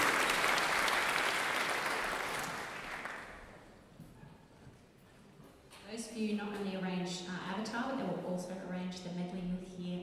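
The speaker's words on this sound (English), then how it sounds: "Please give them a round of applause." Concert audience applause, a loud dense burst of clapping that fades over several seconds, followed by someone speaking.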